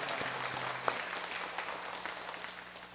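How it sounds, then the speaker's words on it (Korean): A church congregation claps together in a continuous, even round of applause that holds for a few seconds, moderately loud and filling the room. "모든 영광 아버지 하나님께 감사의 박수를 올려드립니다"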